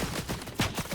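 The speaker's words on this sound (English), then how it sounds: "Someone was shooting at this person." A brief string of rapid, muffled gunshots in Fortnite, several quick cracks in close succession at moderate level with no voices.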